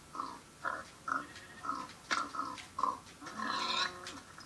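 A pig in the Minecraft video game grunting and oinking, about eight short close snorts in an even rhythm followed by a longer squeal, with no talking.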